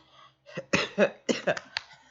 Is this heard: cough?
yes